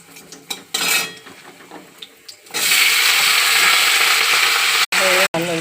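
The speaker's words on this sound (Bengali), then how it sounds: "এবার আমি লাউ শাকটা দিয়ে দেবো।" Bottle gourd greens go into a pan with a tempering of black cumin and dried chilli, bringing a sudden loud sustained hiss of frying after some clinking of utensils.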